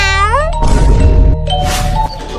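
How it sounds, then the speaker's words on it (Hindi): A cat meows loudly and close, several drawn-out cries in a row with short pauses between them. "अरे बेटा बिल्ली है, डरो मत।"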